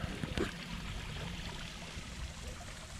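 A small stream trickles across a road and falls into a lake, a soft steady watery rush with a few brief splashes near the start.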